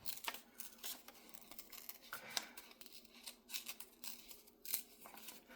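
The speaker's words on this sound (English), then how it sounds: "And I'm going to do it with tearing. Kind of a fussy tearing." Paper being torn by hand into narrow strips for journal ephemera, giving short, close, irregular ripping bursts with small gaps between them.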